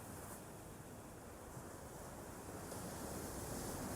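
Ocean surf washes in a steady, soft roar with no distinct breaks, like wind-blown waves rolling continuously in the distance. The sound is even and unbroken, with no voices.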